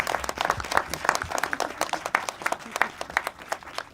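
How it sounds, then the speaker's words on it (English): An audience at a film festival screening applauds the director, a dense, lively burst of clapping that pulses on steadily throughout. "I think she deserves a round of applause"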